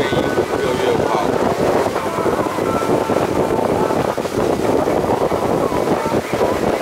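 Strong wind buffeting a boat at sea after leaving Ishigaki Island, a loud constant roar of wind noise and rushing water at a steady level across the whole stretch.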